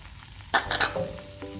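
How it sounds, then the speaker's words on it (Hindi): Chicken with ginger and garlic powder fries in a pan, giving a brief burst of sizzling and stirring over a low background hiss. "इसको हम फ्राई करेंगे थोड़ा सा"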